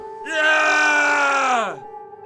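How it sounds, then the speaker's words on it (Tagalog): A single long, loud scream from a man, held steady for over a second before breaking off with a falling pitch. "Sumigaw si Randy."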